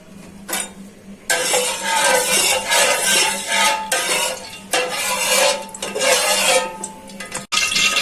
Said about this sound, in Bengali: প্যানটা বসিয়ে দিছি চুলার উপরে, এখন তেল দিয়ে দিচ্ছি গরম হওয়ার জন্য।